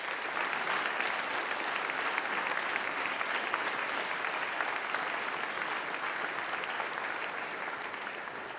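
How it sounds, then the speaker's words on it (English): An audience at a Shawnigan Lake School chapel service applauds steadily and loudly for the hockey team's silver medal, with dense, sustained clapping filling the whole stretch and easing slightly at the end. "applause for their performance"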